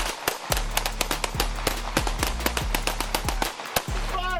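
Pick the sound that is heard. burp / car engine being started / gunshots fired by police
gunshots fired by police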